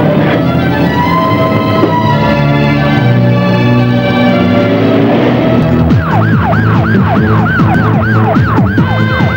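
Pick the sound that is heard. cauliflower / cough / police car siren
police car siren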